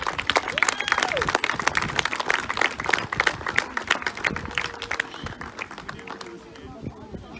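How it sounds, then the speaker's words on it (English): A crowd claps steadily in dense, continuous applause for schoolchildren at an outdoor parking lot concert, with scattered voices and cheers mixed in throughout. "applause for these kids"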